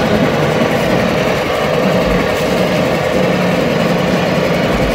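A small dinghy motor runs as the boat sets off, giving a steady, close, unbroken engine drone with a constant buzzing hum.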